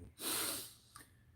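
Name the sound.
person sniffing and snorting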